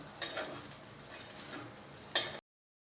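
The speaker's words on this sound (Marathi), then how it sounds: "पुन्हा एकदम मिक्स करून घेऊया" Vermicelli upma (sevai) stirred in a pan at close range, a soft continuous sizzle with a few scraping strokes of the spoon, quiet overall and ending abruptly, no voices.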